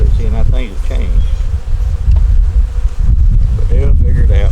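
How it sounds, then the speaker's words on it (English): Worker honeybees buzz loudly around a hive, a dense close droning hum with a voice speaking over it and some wind noise. "Got little worker bees coming in with pollen, and they're trying to figure out where to put it."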